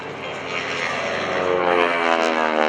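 A Stearman biplane drones past nearby at an airshow, its engine tone steady and slowly growing louder over a few seconds.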